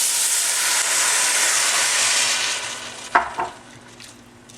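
Chicken stock pours into arborio rice in a hot olive-oiled pan for seafood risotto, a loud steady steaming hiss and sizzle that fades after a few seconds, followed by a couple of clinks and scrapes.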